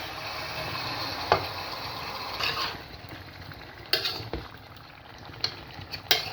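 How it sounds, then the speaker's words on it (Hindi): Small beef pieces with bones sizzle steadily in a karahi for beef tikka karahi, while a spoon stirs them with sharp knocks and scrapes at irregular intervals. The sound is close and moderately loud, with no talking. "बीफ को हमने इतना फ्राई करना है कि इसका कलर जो है वो चेंज हो जाए"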